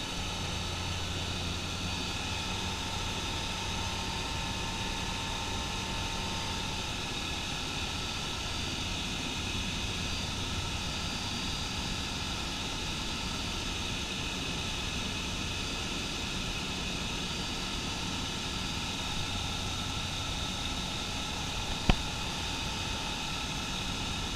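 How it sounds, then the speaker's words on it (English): A microlight aircraft on a low pass over a house, heard from on board as a constant loud engine and propeller drone with a steady hum and hiss that barely changes throughout, and one brief tick near the end. "another pass over my house"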